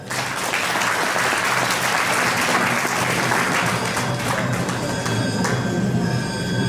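Audience applause at a live Hindi stage arts event, a dense sustained clapping from a large crowd that holds steady and fairly loud throughout.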